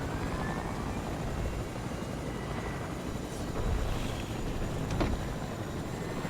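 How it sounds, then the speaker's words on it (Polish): A helicopter in the video game Fortnite gives off a steady, loud, broadband rotor whir and wind-like rush that holds for several seconds without a break, with no talking over it. "Idziemy do helikoptera, szybko lecimy na stację, po karnistry i naprawiacze i już nie wysiadamy."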